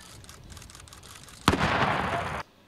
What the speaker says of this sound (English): Prince Harry helped to detonate a controlled explosion.